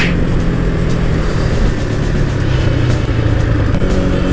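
Yamaha XSR 155 motorcycle with a stock exhaust on a test ride, engine running loud and continuous with steady rumble and wind noise, close to the rider; no speech.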